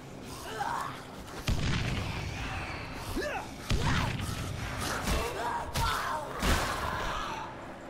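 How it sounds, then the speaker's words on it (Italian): Bombs explode in the zombie game Dead Island Definitive Edition: several heavy, dull booms land a second or two apart over a constant rumbling game backdrop. "Tre bombe, stronzi!"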